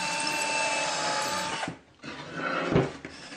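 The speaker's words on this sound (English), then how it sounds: "I have to drill a hole right about here for this cord" A power drill bores a hole for a cord through a wooden part of a table saw build, whirring steadily, stopping briefly, then biting in again with a rougher grinding burst.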